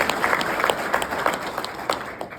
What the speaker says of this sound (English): Let's give Francisco another round of applause.